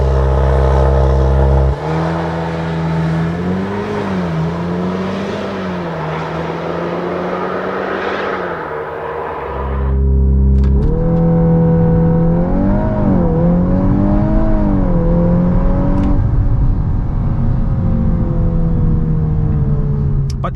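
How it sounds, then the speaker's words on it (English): Volkswagen Golf 8 R launching from 0 to 100 km/h on summer tires, its engine note rising loud and close through several gear shifts with short dips between pulls and no talk. "let's first check out how fast this car goes 0 to 100 with summer tires."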